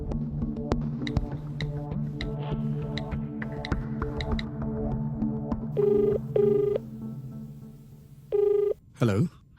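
A telephone rings in repeated bursts over a steady hum with other tones, the ringing loud and close, and a final sharp noise cuts in at the end.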